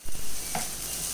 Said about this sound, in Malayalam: ഇതെല്ലാം കൂടെ നല്ലതുപോലെ ഇളക്കി വീണ്ടും മിക്സ് ചെയ്തെടുക്കാം.